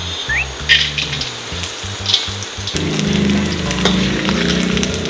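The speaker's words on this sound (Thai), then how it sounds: "เนี่ยก็ลงไปทอดได้เลยเพื่อน" Food frying in a hot pan with a steady sizzle that gets louder and denser partway through, along with occasional clatter of a utensil stirring; close and fairly loud, with no talking.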